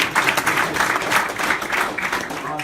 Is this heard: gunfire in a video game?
no